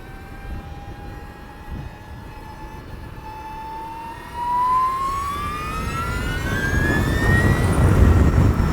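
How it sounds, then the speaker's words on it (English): An Energica Eva Ribelle RS electric motorcycle whines from its straight-cut gears, a loud, steady tone that rises in pitch as it accelerates, with road and wind roar building underneath. "And straight cut gears have a whine to them."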